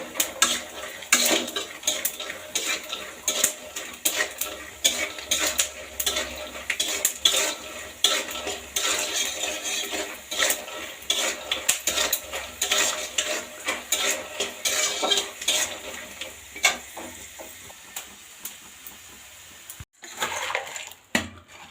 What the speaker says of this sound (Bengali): এবার বাদামটা ভেজে নিই